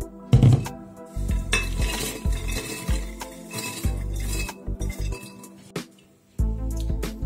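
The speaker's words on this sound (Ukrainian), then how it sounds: "Пересипаємо їх у блендер" Roasted nuts rattle and clatter as they are tipped into a blender jar, with sharp clinks and scraping. Loud and close, with no talking.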